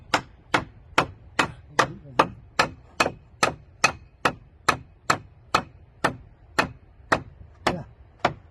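A hammer strikes metal while a motorcycle is being repaired, landing about sixteen sharp, evenly spaced blows in a steady rhythm, close and clear with no talk over them.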